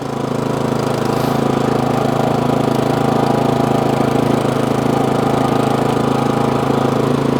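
A Toro Snow Master snowblower runs with its auger engaged, a loud, steady, close-up engine drone that holds at an even level throughout with no talking.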